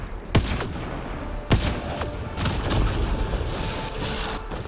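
Video game gunfire cracks out in a burst of sharp shots, two loud reports standing out, followed by a rumbling stretch of further firing at a moderate distance.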